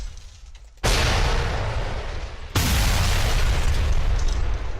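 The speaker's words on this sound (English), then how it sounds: "So I'm gonna try explosion." Two loud booming explosions, the second arriving a couple of seconds after the first, each leaving a thick, sustained rumble.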